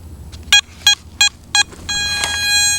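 A Garrett ATX metal detector with an 8-inch mono coil powers up with four short, evenly spaced electronic beeps, followed by a longer sustained tonal chirp, close by and clear.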